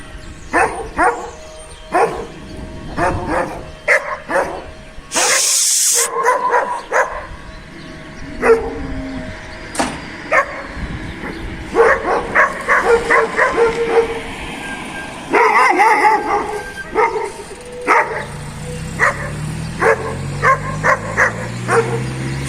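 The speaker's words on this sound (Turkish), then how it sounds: "Arkadaşlar sokak köpekleri birbirlerine şey yapıyorlar." Street dogs fighting one another outdoors: a close, loud flurry of repeated barks, yips, snarls and whimpers in irregular bursts, with a brief rush of noise in the middle and the scuffle continuing to the end.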